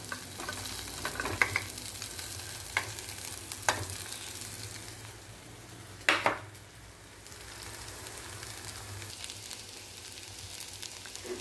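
Flattened rice (aval) being stirred into upma in a pan, with soft sizzling and scraping and a few sharper knocks of the spoon against the pan, close and fairly quiet, with no talk.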